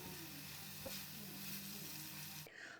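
Vegetables sauté in an oiled pan for a homemade mushroom and vegetable pizza, giving a steady close sizzle with one soft stir knock partway through before the frying cuts off near the end.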